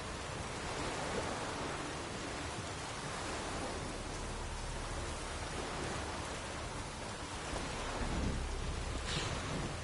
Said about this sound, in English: Jeez, that was a loud thunderclap.